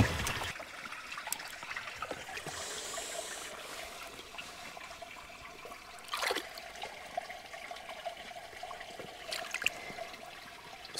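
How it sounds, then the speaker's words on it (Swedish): A hose is dipped into water to fill it, producing a steady soft trickle and gurgle with occasional splashes and bubbling bursts, close by and continuous throughout. "Jag får nog fylla den slangen med vatten."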